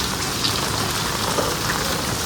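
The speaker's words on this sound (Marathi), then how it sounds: "पाऊस कंटिन्यू पडत राहिला आहे बघा ना." Steady monsoon rain pours without pause over a village with a flooded bridge in July, a dense, even hiss with no voices.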